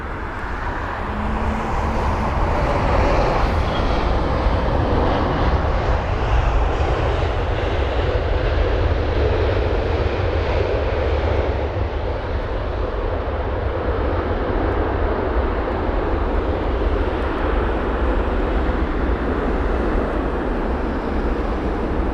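Gulf Air Boeing 787 from Bahrain landing at Heathrow, a sustained loud jet engine roar that stays steady, slowly easing and changing in tone as the airliner passes, with no talk.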